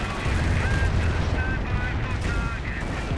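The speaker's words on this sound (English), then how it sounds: "Calliope going for close range barrage now" Calliope rocket artillery barrage in Company of Heroes, a steady roar of explosions and launches in dense battle noise, with a voice talking over it throughout.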